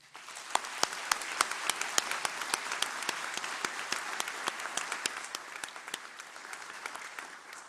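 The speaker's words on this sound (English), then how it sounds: "Please join me in a round of applause to each other in recognizing our graduates and our guests this morning." An audience at a university graduation ceremony applauds graduates and guests: a sustained, moderately quiet wash of clapping in a large hall, individual sharp claps standing out over the steady patter.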